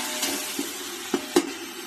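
Onions sautéing in a pan with ground green chili, ginger, garlic, coriander and mint, a soft steady sizzle broken by a few distinct scraping stirs of a spoon, close and fairly quiet.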